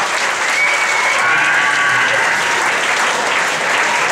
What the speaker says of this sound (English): Give it up for your host, your compeer, Mr. John Ryan.